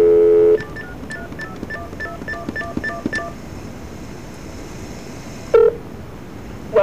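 A telephone keypad dialing a destination number on a call line, a long tone followed by a quick series of about eight short DTMF beeps, then a pause and another brief tone.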